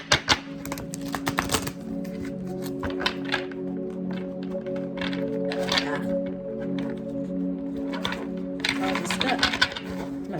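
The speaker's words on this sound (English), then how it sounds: "One more shuffle, y'all." A thick deck of cards being shuffled, with bursts of crisp riffling and tapping up close at the start and end, over a steady tonal hum, with a quieter stretch in between.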